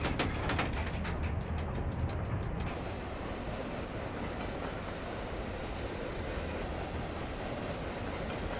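SBB Krokodil electric locomotive at full power in Train Simulator Classic, a steady loud rail rumble with running-gear clatter that thins slightly after the first few seconds, no voices.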